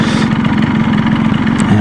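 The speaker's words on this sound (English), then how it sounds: "It's just the ding ding ding ding of the two-stroke." Yamaha RS 125 two-stroke motorcycle from 1984, its engine running with a steady, buzzy, ringing drone, loud and close throughout.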